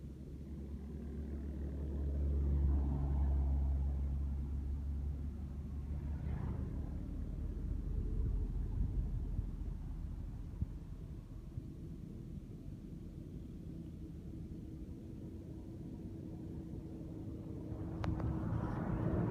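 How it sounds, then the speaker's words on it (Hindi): A vehicle travels a narrow, hazardous road toward Karachi, producing a low, steady engine and road rumble that swells early and then settles into a continuous drone, with a faint click near the end. "ये गाड़ी कराची की तरफ जा रही है।"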